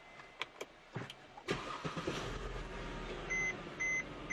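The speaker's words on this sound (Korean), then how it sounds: "시동부터 한번 걸어보도록 할게요." A few soft clicks, then a Mercedes-Benz car engine with about 70,000 km cranks and catches, settling into a smooth idle while two short electronic beeps sound near the end.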